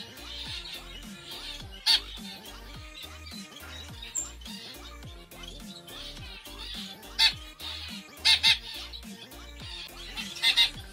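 Pet birds in an aviary chirp and cluck in quick, busy bursts, with a few sharper calls standing out over a constant low background of bird chatter.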